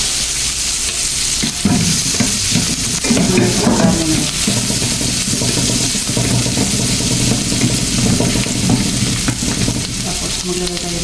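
White onion and garlic frying for bangus sisig, a loud continuous sizzle with stirring and scraping in the pan throughout, no talk.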